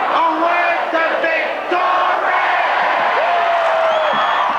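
A large crowd of adoring football fans at a 1990 Grand Final celebration cheer and roar continuously, loud and dense, with whoops and shouts rising above the sustained noise.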